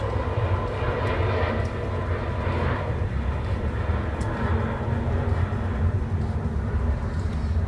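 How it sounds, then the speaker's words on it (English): Airplane flying overhead as a loud, steady low-pitched engine roar, a sustained rumble that fills the whole stretch without easing. "Thank you, Mr. Airplane, for interrupting me."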